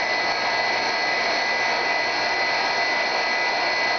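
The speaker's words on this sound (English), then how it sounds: "I'll grind a little more on the outside to correct some" A bench grinder grinds the lip of a twist drill bit during hand sharpening, giving a steady, close, even whirring hiss with no pauses and no talking.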